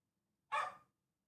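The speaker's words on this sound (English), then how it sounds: "Did you hear Puppy" A puppy gives a single short, sharp bark close to the mic, with quiet room silence before and after.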